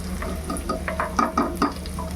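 Onions frying in hot oil until browned while a prawn korma is cooked, soft crackling sizzle with light scraping stirs, close and gentle, no voices.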